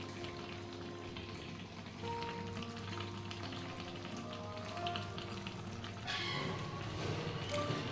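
Mutton frying in a pan with ginger, garlic, green chilli, cumin, tomato and chilli powder, a steady close sizzle with stirring scrapes and small taps throughout, slightly louder near the end.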